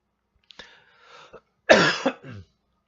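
A person coughs a few times up close, a couple of short coughs followed by a louder, harsher fit.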